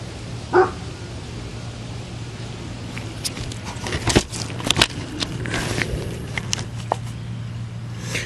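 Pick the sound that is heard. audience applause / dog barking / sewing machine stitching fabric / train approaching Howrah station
dog barking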